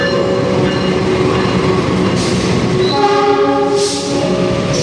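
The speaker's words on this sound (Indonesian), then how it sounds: "Kereta api Pangrango masuk stasiun Bogor Paledang." The Pangrango train rumbles loudly nearby as it arrives at Bogor Paledang station, with a sustained horn-like tone and squealing brakes as it rolls in and slows.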